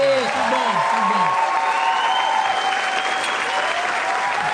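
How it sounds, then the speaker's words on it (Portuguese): Studio audience at a Brazilian late-night talk show breaking into sustained applause with a little cheering, while a voice speaks briefly at the start. "Eu queria terminar te dando um beijo e que vocês aplaudissem de novo, porque ele merece."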